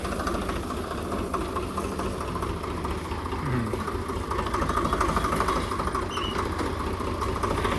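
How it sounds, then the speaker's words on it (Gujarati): A tractor engine idles close by in a steady, rhythmic low chug that runs unbroken throughout, with no talk over it. "મનોજભાઈ આવી ગયા છે ટ્રેક્ટર લઈને"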